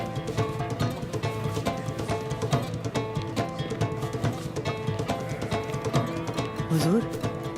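Horse hooves clip-clop in a steady rhythmic beat on a route to battle in a Kurulus Osman drama scene, loud and continuous, with background music and a brief voice near the end.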